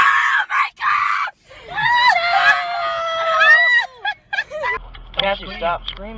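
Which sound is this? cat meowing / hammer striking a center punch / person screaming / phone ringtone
person screaming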